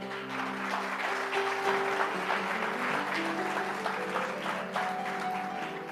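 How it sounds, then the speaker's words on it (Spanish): Church congregation applauding steadily throughout, a dense wash of clapping with sustained music tones underneath and no talk. "Dale un aplauso al Señor."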